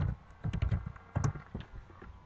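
Fingers type a search into a browser on a computer keyboard, giving quick bursts of close key clicks with short pauses between them and no voice.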